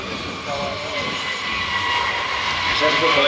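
A B-52 Stratofortress jet bomber at an airport during an air show, its engines giving a loud, steady roar that fills the whole stretch without any clear voices.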